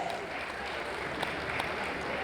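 Audience applause at a stand-up comedy show, a steady wash of clapping from a crowd that holds through the whole stretch and swells slightly at the very end.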